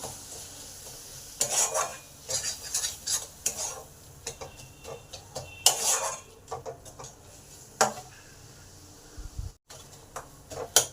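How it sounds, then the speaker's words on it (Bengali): Ground spices — cumin, chilli and turmeric powder with garam masala — being stirred and fried in oil in a pan for bhindi masala, with repeated scraping strokes of a spoon against metal over a soft sizzle, close and fairly loud. "এবার ভালো করে এই মশলাগুলো কষে নিতে হবে"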